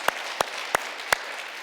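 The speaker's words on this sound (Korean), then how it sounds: "예, 박수 하겠습니다." Applause in a church congregation: a soft wash of clapping with four sharp, evenly spaced louder claps standing out close by, no voices.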